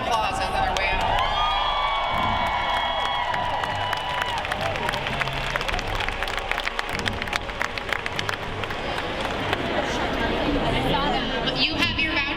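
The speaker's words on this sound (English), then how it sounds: "let's just give another scream of applause on our way out" A crowd at a live book-tour event for a Stephen King novel cheers, whoops and claps steadily throughout, with loud applause and chatter mixed together and voices calling out over the noise.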